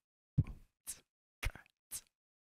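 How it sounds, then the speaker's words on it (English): A simple drum beat plays a low kick on the first beat and a snare on the third, with softer hi-hat taps on the second and fourth, four evenly spaced hits that sound close and fairly quiet against silence. "playing a bass or kick drum on the one,"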